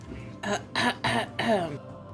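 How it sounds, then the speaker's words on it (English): A few harsh throat-clearing coughs in quick succession, fairly close and loud, with short pauses between bursts. "You're just kind of coughing. From the door."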